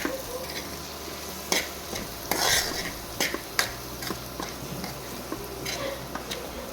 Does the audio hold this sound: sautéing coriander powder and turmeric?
yes